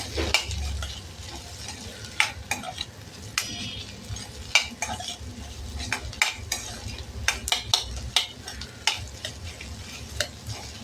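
Boiled potato pieces stirred into capsicum in a pan, a soft low sizzle under repeated sharp clicks and scrapes of a spoon against metal, close up, with no talk.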